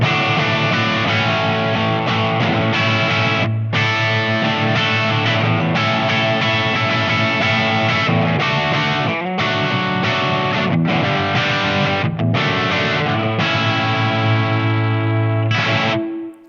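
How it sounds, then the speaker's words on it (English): Electric guitar with humbucker pickups played through a Blackstar AMPED 3 amp pedal on a crunch setting with boost, giving a mid-gain rock tone. Loud, continuous chords and riffs end in a ringing fade. "Now if we go to some humbucker sounds with this crunch,"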